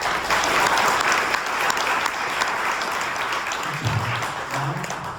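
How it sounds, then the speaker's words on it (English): Audience applause fills a luncheon hall at a charity event, steady dense clapping throughout at a loud, even level, with a few low voices briefly audible near the end. "Give them a round of applause."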